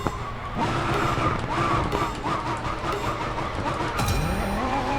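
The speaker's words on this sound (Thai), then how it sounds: "มันคือการทำ power slide" A car power-slides through a drift in the mobile game Racing Master, its engine droning steadily under a continuous tire skid, with a rising engine rev near the end.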